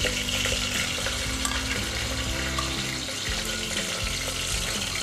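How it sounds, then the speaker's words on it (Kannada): Whole spices, including black pepper and shahi jeera, dropped into well-heated oil for chicken bhuna masala crackle and sizzle in a dense, steady hiss under a low rumbling hum. "ಇಷ್ಟು ಮಸಾಲೆಯನ್ನು ನಾನು ಈ ಚೆನ್ನಾಗಿ ಕಾದಿರುವಂಥ ಎಣ್ಣೆ ಒಳಗಡೆ ಹಾಕೋತಾ ಇದ್ದೀನಿ"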